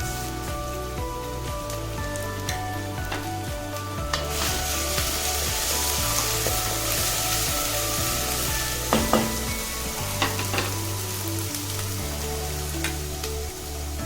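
Sliced onions with ginger garlic paste sauté in a hot pan for a traditional coconut rice curry. They crackle and sizzle steadily and loudly, with occasional scraping stirs and clatters.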